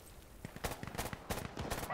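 Gunfire in the tactical shooter game Insurgency Sandstorm, a rapid burst of sharp shots and bursts, fairly faint and mixed with game noise.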